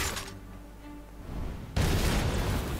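A weapon blows up in the space game Holy Potatoes! We're in Space?!, a sudden loud burst that lands after a quieter tonal stretch and trails off into a rough, noisy rumble.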